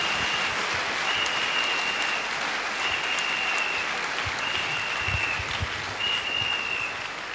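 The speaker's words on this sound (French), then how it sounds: "A clap offering to Jesus." A congregation at an evangelism crusade in Douala claps as an offering to Jesus, a steady, dense roar of applause with a thin high whistle recurring above it.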